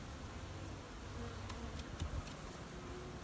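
Honey bees buzz during a honey harvest, a soft continuous drone of many insects nearby with a few brief louder passes and clicks, no voices.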